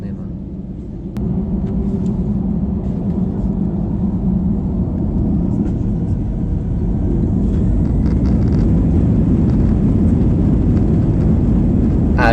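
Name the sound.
Airbus A320 accelerating on runway for takeoff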